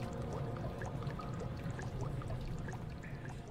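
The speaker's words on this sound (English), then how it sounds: "Are any of these spewing out grease?" In the dark horror game Amnesia: The Dark Descent, grease pours and spews from machinery in a steady, liquid gush that trickles and splashes throughout, with no voices heard.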